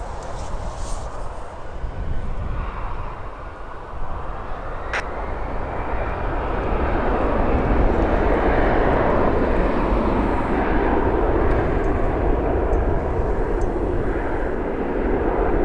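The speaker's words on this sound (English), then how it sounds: "On an A321 Rouge" An Air Canada Rouge Airbus A321 at Toronto Pearson airport produces a broad jet-engine roar that swells and holds loud and steady, heard from outdoors at a distance with no voices.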